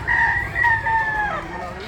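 A rooster crows once among a flock of chickens, a loud, close, drawn-out call that rises, holds and falls away, with low background noise beneath.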